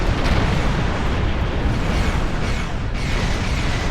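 An explosion in the video game Doomsday: a dense, loud, sustained roaring blast filling the whole clip with crackling debris-like texture and a brief dip near the end, no talking.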